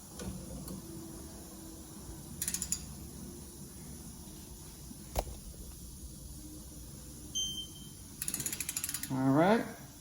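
A ratchet tightens the front brake bracket bolts on a 2014-2018 Honda Pilot, heard as a few short bursts of quick clicks, the longest near the end, over quiet room background.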